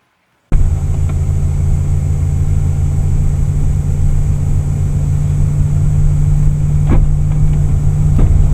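A car driving steadily, recorded from inside by a Thinkware ARC dash cam, with a constant low engine and road hum throughout and a couple of faint brief knocks near the end.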